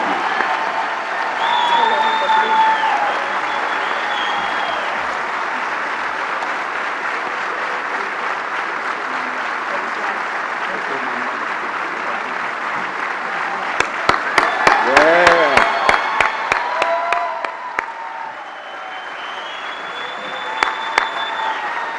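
Audience at an inauguration ceremony claps in a broad wash of applause that swells and fades, with a speaker's amplified voice heard over it and a burst of sharp claps in the middle.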